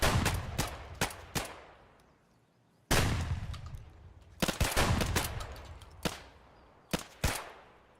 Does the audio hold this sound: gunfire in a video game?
yes